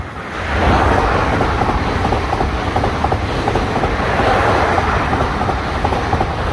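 An RER commuter train pulls into Houilles-Carrières-sur-Seine station, a loud, steady rumble of wheels and carriages with faint rhythmic clicks and creaks running the whole way, no voices.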